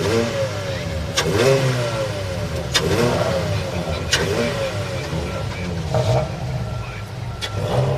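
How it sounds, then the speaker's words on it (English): Fiesta Junior Championship race cars at Cadwell rev their engines in qualifying, several engine notes rising and falling in repeated revving bursts while a commentator talks over the loud, continuous noise. "The roar of the BRSCC Fiesta Junior Championship qualifying live."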